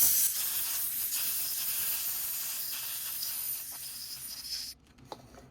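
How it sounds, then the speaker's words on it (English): A steady, loud hiss of compressed air blows excess castable resin off a cast aluminium piston part, then cuts off abruptly, leaving a short quiet tail with a small knock. "probably blow it off with some compressed air"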